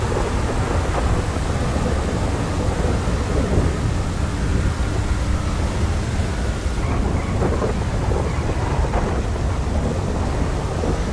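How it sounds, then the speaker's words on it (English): Rolling thunder and pouring rain from a GTA FiveM racing session, a dense, unbroken storm wash that stays loud and even throughout with no one speaking. "We obviously can't hear anything because of the thunder"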